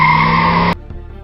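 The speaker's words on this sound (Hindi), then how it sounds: "उसने जोर से अपनी बाइक के ब्रेक लगाए।" Hard braking of a motorbike with a skidding tire, a loud sustained squeal that cuts off abruptly, followed by quieter rumbling.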